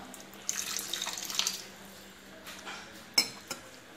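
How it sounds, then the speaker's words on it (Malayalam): Water pours and splashes softly into a pan of simmering tamarind jackfruit curry in a kitchen, with a few light clinks of a utensil following, faint and close. "നമുക്ക് കുറച്ച് വെള്ളം കൂടി ചേർത്ത് കൊടുക്കാം."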